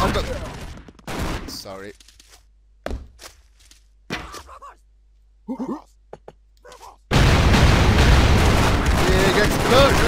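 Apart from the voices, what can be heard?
gunshots and explosions in the video game Expendabros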